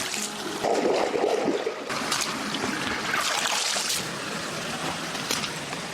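Water draining and trickling from peeled bamboo shoots set in a basket, a steady close splashing dribble that runs continuously with slight surges, with no talking.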